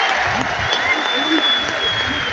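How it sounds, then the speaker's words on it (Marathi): Crowd applauding at an OBC reservation rally in Ambad, a dense steady wash of clapping throughout with a faint voice or two underneath. "सगळ्यांनी टाळ्या वाजवा ज्यांना ज्यांना हात आहे।"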